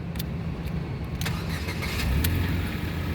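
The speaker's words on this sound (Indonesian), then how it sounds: "Sekarang kita coba saja start mobil ya." A 2011 Ford Fiesta 1.6 engine cranks and starts, a brief starter whir giving way to a steady, rumbling idle heard close by.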